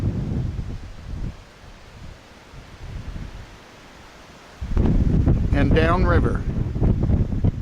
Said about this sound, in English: Wind blew like crazy last night, and it's still blowing, as you can probably hear it.